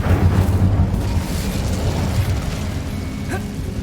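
An Incendio fire spell is cast in Hogwarts Legacy, a loud roaring burst of flame that swells at once and then fades into a steady rumbling hiss, heard alone.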